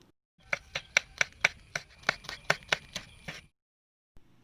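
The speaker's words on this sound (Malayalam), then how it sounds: "സവാള കട്ട് ചെയ്യുന്നത് നമ്മുടെ റെമിമോനാണ്" Onion for egg burji chopped with a knife in a village kitchen, about a dozen crisp, evenly spaced cuts on a board, close and clear, then silence.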